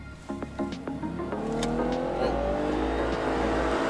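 A flagship Lexus hybrid with a naturally aspirated engine pulls away hard from a standstill: a brief idle, then a steadily rising engine note that climbs and builds loudly as the car surges forward with no voices.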